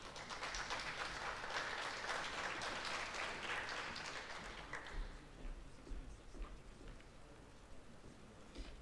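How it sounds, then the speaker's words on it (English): A school presentation ceremony audience applauds a student receiving a numeracy prize. The clapping is a dense, even patter like rain, strong at first and then thinning and fading to a quieter trickle. "Can we please get a round of applause for Gloria"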